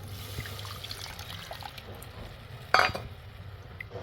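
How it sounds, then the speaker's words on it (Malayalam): Tamarind water pours into simmering sardine curry gravy, a soft liquid trickle under low background noise, with one brief louder splash midway. "അതിലേക്ക് നമുക്ക് പുളിവെള്ളം ഒഴിച്ചു കൊടുക്കാം കേട്ടോ"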